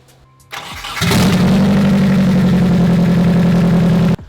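A turbocharged Nissan 240SX cranks briefly and fires up on the first try, settling straight into a loud, steady idle close by, with no talking.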